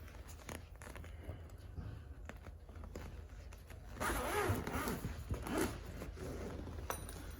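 A zipper on a 2023 inTech Flyer Pursue RV is drawn along in a steady rasping pull, louder midway through, over faint background noise.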